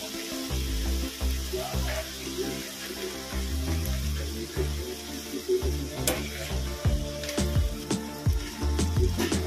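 Pomfret fish is added to hot masala and fries with a bubbling, watery sizzle, punctuated by clicks and clatter from the pan, and nobody speaks.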